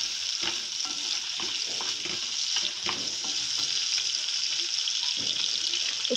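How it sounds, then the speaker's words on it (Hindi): Vegetables and chopped garlic frying and being stirred in a pan, a steady close sizzle with frequent clinks and scrapes of the utensil throughout. "थोड़ी देर तक इसको हम फ्राई करते रहेंगे।"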